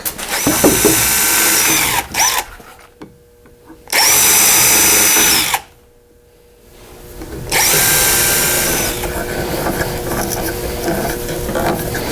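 A power drill drives hooks into a pallet wood shelf in three loud, close whirring bursts separated by short pauses, with small handling noises between them.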